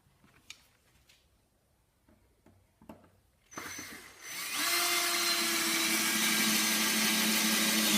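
A drill drives a Termite wood screw into birch: a few faint taps at first, then the drill starts up loud and close, and a steady high whine holds to the end.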